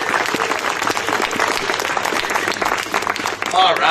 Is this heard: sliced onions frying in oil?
no